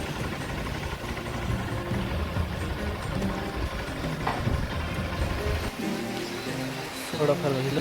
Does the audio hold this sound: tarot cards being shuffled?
no